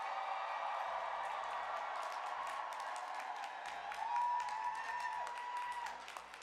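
Steady applause from a commencement audience at the 2018 MDC Homestead Campus graduation, a dense wash of clapping from a large crowd that holds evenly throughout, with a faint tone and low hum underneath.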